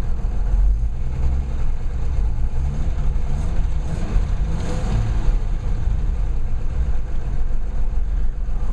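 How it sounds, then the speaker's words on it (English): A Toyota FJ60 engine idles with a Flowmaster muffler, giving a steady, deep low rumble up close with a slight swell in revs midway, with no talking. "It's got a pretty good rumble to it. You can hear the Flowmaster muffler on it."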